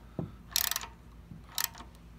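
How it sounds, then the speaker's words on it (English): A ratchet snugs up 10 mm screws on the control box of a Mud-Skipper outboard motor, giving two short bursts of close, quick clicking separated by a pause. "we can just use a, a ratchet here to tighten them up a little bit, just so they're snug"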